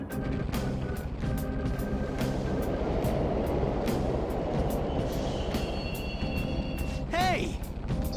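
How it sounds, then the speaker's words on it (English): Subway trains running in the Mementos level of the video game Persona 5, a steady rumbling roar with clanking and beeping tones and a rising electronic whine near the end, under game speech. "The trains are totally running."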